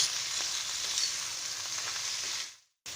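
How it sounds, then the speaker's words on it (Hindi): Keema frying in a pan with onions, an even, close sizzling hiss that holds steady for a couple of seconds, then drops abruptly to silence before a brief return. "कीमे को भून लेंगे।"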